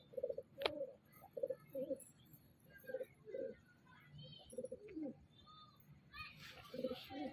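Pigeons pecking at grain coo repeatedly nearby in short, throaty bursts, several birds overlapping, with quieter chirps and background voices mixed in.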